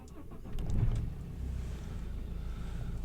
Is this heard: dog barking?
no